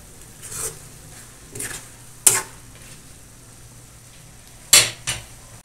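Lechon paksiw stirred in a pot after sugar is added, a few sharp spoon scrapes and clinks against the pot between quiet gaps, close and without talk.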